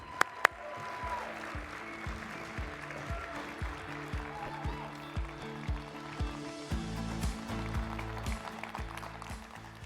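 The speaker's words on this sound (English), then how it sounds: "give your loudest cheer of the day" An audience at a global insurance symposium applauds and cheers as a presenter is welcomed on stage. The clapping is fairly faint and continuous, set against a steady thumping musical beat.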